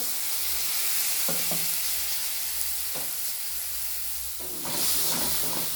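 Water poured into a pan of frying chopped tomato and spices sets off a steady, loud hiss and sizzle, with a few brief clinks of stirring over the constant bubbling.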